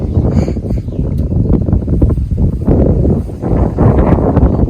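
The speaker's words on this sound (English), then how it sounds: "The wind is blowing in directions." Steady outdoor wind gusting and buffeting the microphone near young trees, a continuous loud rush with rustling swells and no talk.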